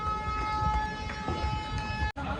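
A train on the route toward Haridwar, moving along with a steady rumble and a sustained high tonal whine throughout, then a brief dropout near the end.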